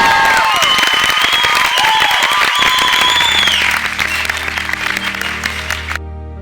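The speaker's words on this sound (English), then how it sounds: "This is a milestone worthy of a round of applause." A large crowd applauds and cheers loudly and continuously at a Jamaican independence celebration, the clapping dense and sustained before fading into music.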